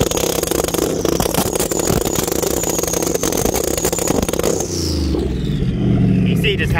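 Ford Mustang drag car running E85 held on the trans brake, engine revving hard at high RPM with loud crackling clatter, then the pitch drops and changes near the end; voices are audible under the engine.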